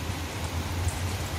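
A continuous wash of heavy afternoon rain falls on a Kuwait work site, a thick, level roar of drops with no pauses and nothing else standing out.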